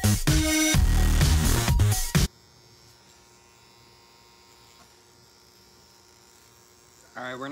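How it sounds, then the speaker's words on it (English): A tattoo machine buzzes during self-tattooing, a faint steady electric hum running for several seconds after a loud opening burst of other sound, with no talking over it. "I really like how this tattoo machine kind of handles the tattooing."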